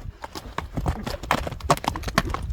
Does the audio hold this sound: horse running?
yes